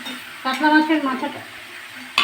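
A katla fish head fries in a pan with garlic, producing a continuous sizzle under clattering stirring and scraping of a utensil against the pan, with a sharp metallic knock at the end.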